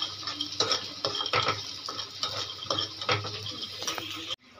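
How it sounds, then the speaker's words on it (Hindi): Peanuts fry and get stirred in a small wok, with sizzling oil under steady scraping and clinking of a utensil against the pan, close and continuous throughout. "छोट कढ़ाई बसे दैछि, एतार मु चीना बादाम भाजी"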